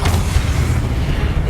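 A Confringo explosive spell blast in the video game Hogwarts Legacy, a loud, sustained booming rumble filling the whole moment without a break.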